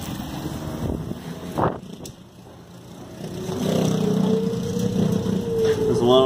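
A Chinese 400-watt wind turbine spins in high wind, its rising tonal whine building steadily under heavy wind noise and buffeting, with someone speaking briefly.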